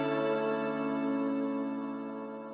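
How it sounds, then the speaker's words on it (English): A single electric guitar hit from a song production, drenched in heavy reverb, rings out as a sustained, slowly decaying chord with a long echoing tail and no other sounds. "This is the most important guitar hit in the song."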